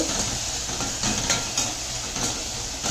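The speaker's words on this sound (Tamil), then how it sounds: "சுண்டைக்காவை சேர்த்து நல்லா வதக்கிக்கணும்" Turkey berries sautéing in a pan make a soft, continuous sizzle and hiss, with faint stirring scrapes at intervals and no talk.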